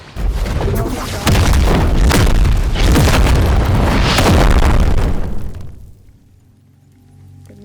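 A normal shot finisher in a game lands as a loud, sustained booming explosion lasting several seconds, then fades to a quiet low rumble.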